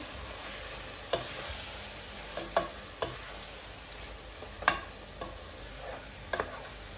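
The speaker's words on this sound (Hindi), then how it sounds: "तेल को कम कर देंगे, सारे मिक्सचर को अच्छे से मिला लेंगे।" Spatula stirring a chicken schezwan rice mixture in a pan, giving intermittent scraping clinks over a soft, steady sizzle, close and moderately loud.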